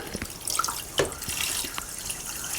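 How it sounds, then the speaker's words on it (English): Water spatters and trickles irregularly as a hand pump draws it from a domestic heating system's expansion setup, with soft gurgles and small drips close by. "Okay, start pumping."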